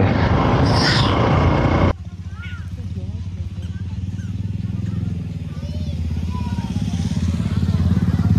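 A motorcycle rides along a country road past mustard fields, with a steady engine drone and wind rumble. A loud, noisier section at the start cuts off abruptly, and a voice talks faintly over the engine.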